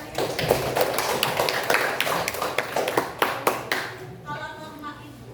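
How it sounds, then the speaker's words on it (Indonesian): A group of students clapping for one another in a classroom: a short burst of rhythmic, fairly loud claps that fades after a few seconds, followed by a quieter tone. "tepuk tangan buat kalian"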